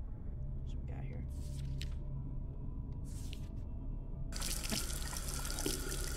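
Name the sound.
shower running water in the horror video game Beside Myself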